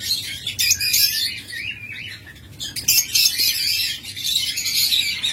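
Caged doves and lovebirds chirp and tweet continuously, a dense, busy chorus of high calls at close range with no talk.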